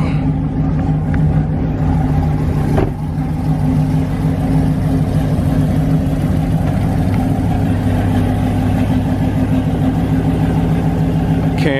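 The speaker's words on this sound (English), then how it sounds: "Let's see CJ burn some more rubber up off this race car" Chevrolet SS race car in Candy Apple Red on 26-inch wheels revving hard during a burnout, a loud steady engine drone with a brief surge near three seconds, continuous throughout.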